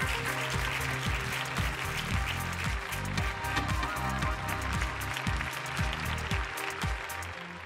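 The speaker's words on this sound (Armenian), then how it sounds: "եկեք նրանց այստեղ հրավիրենք բարձր ծափարություններով" A crowd applauds steadily as a second team is welcomed onstage at a business-idea event, the dense clapping blended with loud, rhythmic music playing throughout.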